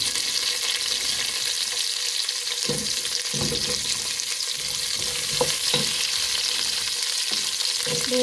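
Garlic, curry leaves, cloves and fenugreek sizzle steadily in hot oil for a biryani, a loud, continuous frying hiss with a few brief stirring clinks, no voices.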